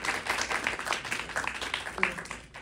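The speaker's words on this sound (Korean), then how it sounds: "큰 박수 부탁드립니다." A small audience at a short-film screening Q&A claps for an actress who stands to greet them, light scattered claps of moderate volume running through the brief moment.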